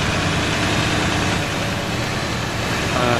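A T-150 tractor engine in Farming Simulator 19 drones steadily at a low idle-like rumble, continuous and fairly loud with no breaks or speech.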